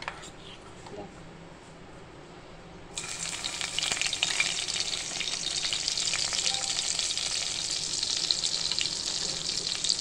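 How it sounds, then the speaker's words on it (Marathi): Hot oil and butter in a kadhai for tempering potatoes hiss into a sudden loud, continuous sizzle after a few quiet seconds, close up and steady, with someone talking over it. "आता ह्याच्यामध्ये आपण फोडणी देणार आहे बटाट्याला।"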